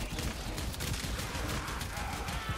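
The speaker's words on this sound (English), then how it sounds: "you're just spitting out bullets incredibly quickly" Rapid fire from the Kohm shotgun in the video game Warframe, a dense, continuous rattle of shots blurring into a steady roar, moderately loud and unbroken throughout.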